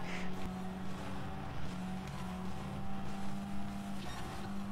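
Racing game car on PlayStation 5 driven slowly, its engine holding a steady low drone with small revving swells, moderately quiet and unbroken, with no talk over it.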